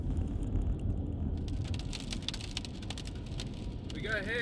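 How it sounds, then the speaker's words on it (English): Hail falling during a storm chase east of Colorado Springs, a dense patter of stones hitting nearby surfaces, steady and close, with a brief voice or whistle-like sound at the end. "We got hail."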